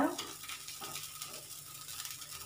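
Millet (kambu) dosa batter cooks in oil on a hot pan, a faint, steady sizzle with a light scrape at the start, quiet and close, with no talking.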